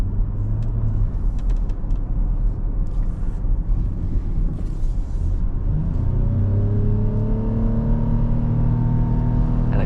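A 2011 Lexus RX 450h hybrid SUV with a six-cylinder engine and 221,000 miles accelerates under moderate throttle, a steady close engine drone with rising tones building over the last few seconds.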